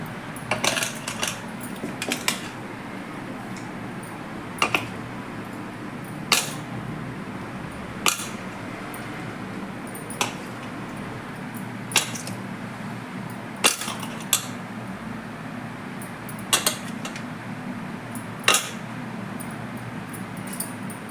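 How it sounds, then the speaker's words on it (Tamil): Carp pieces go into a pot that is then covered with a plate, followed by sharp, scattered metallic clinks and clatters at intervals over a low steady background hiss, close by. "இப்போ மீன்லாம் போட்டாச்சு. தட்டை போட்டு மூடிட்டு சிம்மில் தான் இருக்கணும்."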